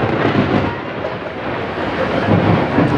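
Steady heavy rain pours with a continuous low rumble of thunder, loud and broad throughout a storm during an evening religious gathering, with no voices over it.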